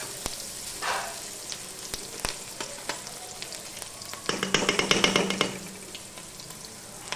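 Onions frying in a pan over a low flame in a village kitchen, a steady soft sizzle with scattered crackles and pops, swelling briefly into a louder, busier spatter before settling back.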